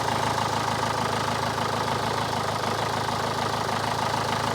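A used Renault Duster engine idling with the engine bay open, a steady, even mid-low hum running continuously at close range without talk.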